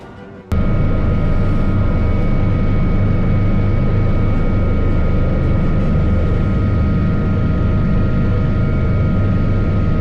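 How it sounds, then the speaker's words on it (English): A NASA research aircraft lands without its landing gear, heard as a loud, continuous roar with steady droning tones that starts suddenly and holds unbroken. "A NASA research aircraft in Houston landed safely despite being unable to deploy its landing gear"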